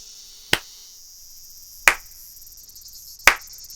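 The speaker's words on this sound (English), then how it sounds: "Well, in that case, I'll just clap." Three sharp, isolated hand claps ring out at a seaside shrine to summon an octopus-headed sea god, spaced about 1.4 seconds apart, each crisp and close with a short echoing tail and quiet between them.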